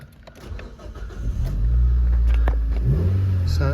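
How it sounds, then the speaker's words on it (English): A Nissan Juke 1.6 petrol engine cranks briefly, catches, and settles into a loud, steady idle close by. "Just start the car up."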